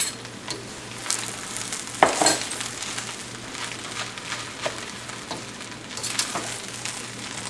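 Indian-style Chinese fried rice gets stirred in a hot pan, with a soft continuous sizzle broken by a spatula's irregular scrapes and clinks against the metal, one sharper knock standing out.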